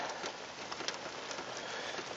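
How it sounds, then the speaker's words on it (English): Steady rain falls on a Thursday evening in Vermont in full humidity, a dense, even hiss of drops on surfaces with scattered louder spatters, continuous and fairly close, with no voices. "And it's raining in Vermont."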